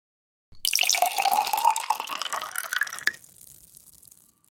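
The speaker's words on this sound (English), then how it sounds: "pouring water in a glass" AI-generated sound of water pouring steadily into a glass with bright splashing and gurgling, then thinning to a faint trickle and stopping; no voices.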